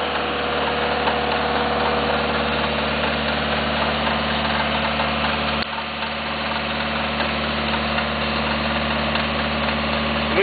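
A drilling rig's engine runs at a steady, loud idle with a constant low rumble and vibration throughout, dipping briefly in level midway before settling back into the same continuous drone.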